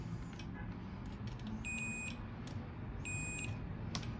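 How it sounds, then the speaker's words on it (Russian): A continuity tester set against an extension cord plug beeps in two short high-pitched tones over a quiet background hum. "Ставим на вилку, на обычную прозвонку."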